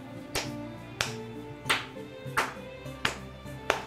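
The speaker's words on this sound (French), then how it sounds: "dans mes mains très serrées, je vais applaudir" Six sharp, evenly spaced hand claps ring out close by over a bed of sustained musical tones, each clap standing out as a crisp slap at a steady, unhurried pace.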